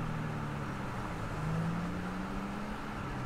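A steady, droning video game car engine hums at constant speed, a low continuous rumble with road noise and no other sounds.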